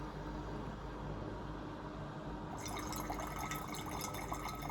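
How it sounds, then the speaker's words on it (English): A pour-over kettle pours a controlled stream of water into a vessel. A quiet, steady liquid trickle becomes a brighter, splashier filling sound halfway through, with no talking. "let me move this aside and see if we can show a different pour with this one"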